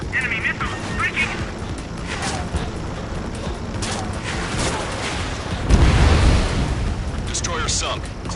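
Destroyer exploding and going down in the Ace Combat flight game: heavy combat rumble and gunfire build into a loud, deep blast midway that rolls on, with radio chatter talking over the action.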